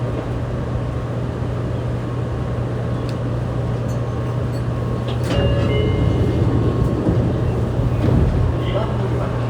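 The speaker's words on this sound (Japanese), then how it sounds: "2番乗り場から電車が発車します。" Fukuoka City Subway 2000 series train with Hitachi late-type GTO-VVVF inverter, heard from inside while stopped and then pulling away, a steady low hum with a faint rising motor tone beneath a platform announcement.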